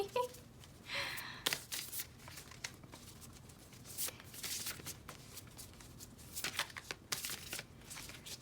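A new deck of tarot cards is shuffled close up in quick riffling bursts and soft slaps of sticking cards, quiet and intermittent with brief pauses between shuffles.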